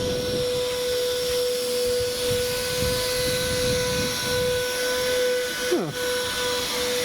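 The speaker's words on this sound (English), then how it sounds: "Looks like someone's hoovering." A steady whining hum with a constant high tone runs throughout, like a vacuum cleaner droning nearby, with a brief sweeping pitch dip near the end.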